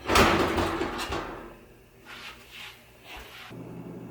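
Kenmore oven door being lifted off its hinges, giving a loud metallic clunk and scrape at the start, then quieter rattles and shifting knocks as it comes free.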